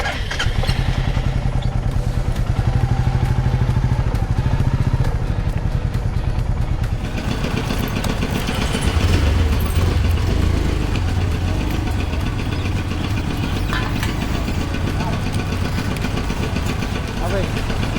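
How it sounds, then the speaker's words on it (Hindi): A Royal Enfield Meteor 350 motorcycle engine idles and runs with a steady, thumping mid-pitched rumble on the road, close and loud, with people talking over it throughout. "मेरी बाइक है रॉयल एनफील्ड की मीटियो 350।"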